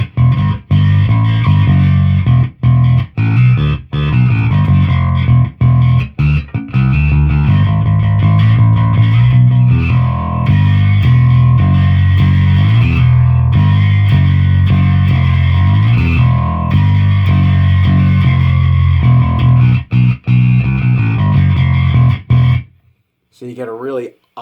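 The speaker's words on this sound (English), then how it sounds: "you get a really awesome, chunky distortion sound" Thick, heavily distorted electric guitar through a Tech 21 Dug Pinnick distortion pedal chugs and rings continuously and loudly, with brief choppy gaps, before cutting off near the end.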